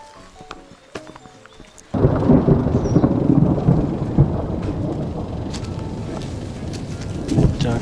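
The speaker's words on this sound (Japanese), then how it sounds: "雷が落ちないように祈りましょう。" Thunder rumbling during rain in the Nepal mountains on the Annapurna Circuit, a deep, loud roll breaking in suddenly after a quiet start and sustaining for several seconds over the patter of rain.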